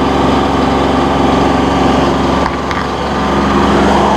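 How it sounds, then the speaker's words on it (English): A Massey Ferguson 1700E series diesel tractor engine runs loud and steady at close range during a particulate filter regeneration, a constant droning rumble with a brief dip midway, no voices. "This is the Massey Ferguson 1700 E series, and we're going through a regen right now."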